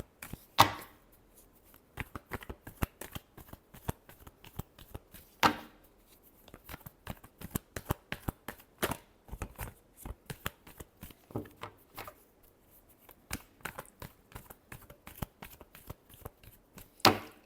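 Tarot cards are shuffled by hand in rapid crisp riffling bursts, with sharp flicks and soft slaps between them, close and quiet with no talking.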